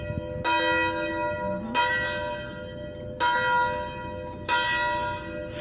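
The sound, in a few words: church bell ringing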